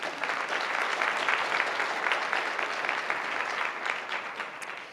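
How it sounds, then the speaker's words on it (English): Warm audience applause at a City Club civic forum, a dense patter of many hands clapping steadily for a few seconds before tapering off. "Please join me in a warm round of applause for all of them."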